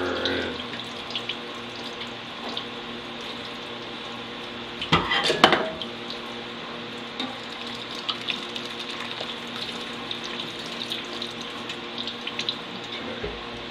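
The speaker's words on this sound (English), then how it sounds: "your colander will clog up a little bit. Just shake it and stir it." Cheese curds draining in a colander in a kitchen sink are shaken and stirred, with water trickling steadily throughout and a brief burst of metallic clattering partway through.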